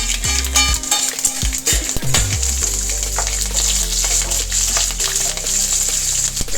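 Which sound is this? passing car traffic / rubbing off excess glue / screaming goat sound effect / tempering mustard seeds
tempering mustard seeds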